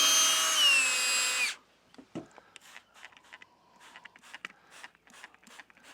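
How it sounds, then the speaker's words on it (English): A power drill set to low speed whines steadily and loudly for about a second and a half, then stops, followed by faint scraping and handling noises during work on a 2000 Jeep Grand Cherokee. "I got my drill on low"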